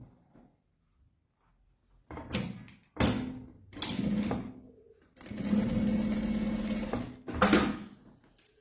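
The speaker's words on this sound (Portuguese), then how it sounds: "E vou fazer aqui uma costurinha rebatendo." A sewing machine topstitches a seam on a wallet lining in several separate bursts of rapid, buzzing stitching, close and loud, with a longer run in the middle and quiet handling gaps between.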